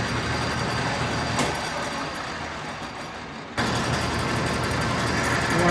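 A metal lathe runs a light finishing pass on a steel lightsaber part, a steady close mechanical drone with a brief dip and a sharp rise near the end.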